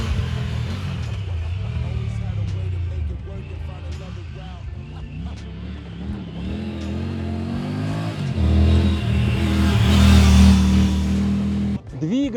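Triumph Tiger 900 GT motorcycle with an 888 cc engine on the move, its engine note rising and falling through gear changes under a steady rush of wind, growing louder as it accelerates near the end, with someone talking over it.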